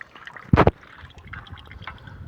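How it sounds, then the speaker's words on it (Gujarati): Water drains from a diesel fuel tank in place of fuel: one short, close gush and splash, followed by faint dribbling and trickling. "આમાં ડીઝલની જગ્યાએ પાણી નીકળ્યું."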